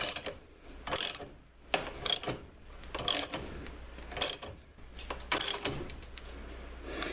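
Bearing cup being pressed into a U-joint, giving a run of mechanical clicks and creaks with a few sharper ratchet-like snaps, close and moderately loud, no talking.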